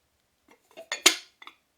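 Off-white Le Creuset stoneware butter dish with a solid, chunky lid rocking on its base, giving a few short ceramic clinks and knocks in a quick uneven cluster, close and moderately loud.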